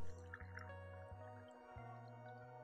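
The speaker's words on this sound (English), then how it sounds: "Let's pour water inside it." Water is poured into a washing machine drain valve, giving soft dripping and filling splashes close by under a steady tonal background hum.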